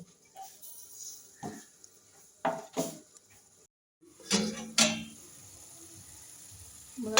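A lid goes onto a metal pot of bottle gourd set to boil, with a few close metallic clinks and clatters in separate bursts and short quiet gaps between them.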